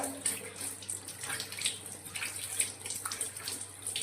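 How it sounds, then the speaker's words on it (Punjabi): Plain water runs and splashes steadily over a stained cloth being rinsed by hand, with no soap, a close, continuous faucet-like flow with small spattering bursts throughout. "ਆਪਾਂ ਸਿਰਫ ਇਹ ਕੱਲੇ ਸਾਫ ਪਾਣੀ ਨਾਲ ਧੋਤਾ"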